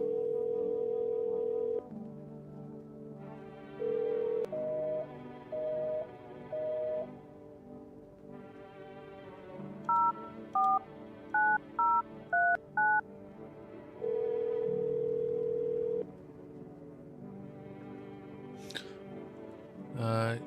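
Telephone keypad tones sound in the video game No I'm Not A Human: several sustained dialing tones and a quick run of short beeps, separated by gaps filled with a low game hum, with talk in places.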